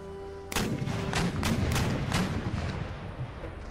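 Artillery batteries fire shells in the Empire: Total War strategy game, producing a sudden loud boom followed by several more rapid blasts that roll into a rumbling decay.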